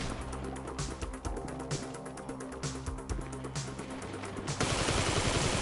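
Rapid pistol gunfire in a GTA 5 deathmatch cracks out in quick irregular volleys of sharp shots, near and loud, ending in a louder noisy wash.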